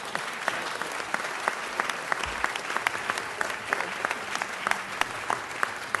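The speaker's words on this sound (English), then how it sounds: "Let's give them the type of round of applause that they deserve." An audience at a city council meeting gives a steady, moderately distant round of applause, many hands clapping evenly throughout with no pause.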